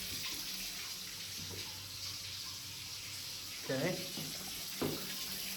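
Water runs steadily from a faucet into a bathtub in an 1890 Victorian upstairs bathroom, a constant hiss under brief speech and a couple of faint clunks.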